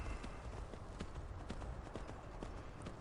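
A horse's hooves clip-clop in steady, evenly spaced beats in the video game Skyrim, quick and fairly close, heard alone over a low rumbling background.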